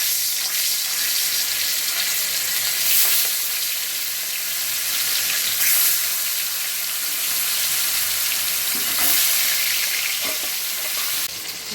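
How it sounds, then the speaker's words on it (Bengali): Tengra fish sizzles steadily in hot oil, a loud, continuous crackling hiss with a few brief scrapes of stirring. "মাছ ভাজা বসিয়েছি, এবার উল্টে দিই।"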